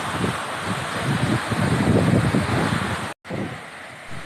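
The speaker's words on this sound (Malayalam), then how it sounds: "വിചാരിക്കുന്ന പോലെയല്ല, നല്ല കാറ്റുണ്ട് ഇവിടെ" Strong wind roars steadily at Athirappilly waterfall, a loud, close, rushing wash with no voices that drops out abruptly for a moment before resuming.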